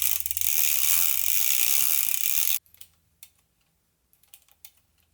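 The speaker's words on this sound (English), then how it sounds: "The Yashica Mat 124G, when winding to the next photo, is loud." A Yashica Mat 124G film advance crank gives a loud, continuous mechanical ratcheting for a couple of seconds, then a Rolleiflex 3.5 Planar winds much more quietly, near-silent with only faint clicks.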